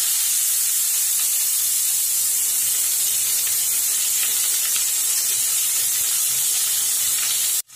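Onion pieces tossed with salt into a hot pan for a squid roast give off a steady, bright sizzling hiss that holds evenly throughout and cuts off at the very end.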